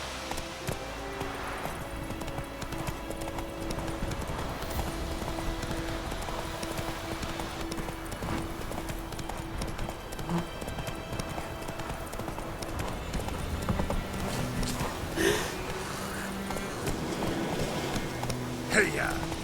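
Horse hooves clip-clop steadily in The Witcher 3: Wild Hunt, a continuous rhythmic trotting over an ambient game backdrop, with a voice urging the horse on partway through.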